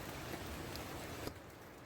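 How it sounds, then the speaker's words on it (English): Steady rain falls on a bushcraft camp up in the hills, a dense even patter that holds until a brief sharp tap near the end, after which it thins and softens. "I do like it when it's raining up here."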